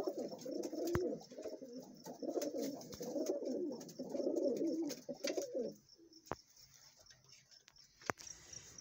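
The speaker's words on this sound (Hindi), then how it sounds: "ये जो कबूतर हैं यासर भाई के घर के जोड़े हैं" Pigeons coo on a rooftop in soft, repeated rolling calls that cluster for several seconds and then fade out, with a few sharp clicks and light background noise around them.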